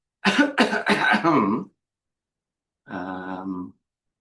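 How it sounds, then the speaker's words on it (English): A burst of several quick, harsh coughs is followed after a pause by a shorter, rougher throat-clearing sound, close and fairly loud. "this is the part where I cough to see what the transcriber does"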